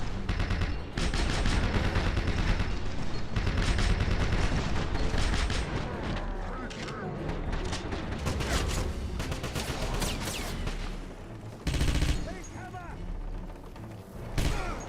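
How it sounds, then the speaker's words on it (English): An MG42 machine gun fires in the game Wolfenstein, a loud sustained rapid rattle of automatic fire with brief breaks and bursts, mixed with other game effects. "There's a guy with a big machine gun up there. MG42."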